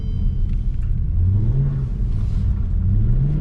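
A loud, deep Mercedes C63 AMG engine with an X-pipe exhaust rumbling and revving up and down close by, a continuous throaty drone with rising pitch sweeps.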